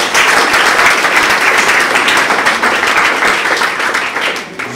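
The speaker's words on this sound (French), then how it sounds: "Je pensais qu'on devait acclamer encore pour nous." Sustained audience applause fills a national teaching day conference hall, a dense, loud, steady clapping that holds throughout and tapers slightly at the end.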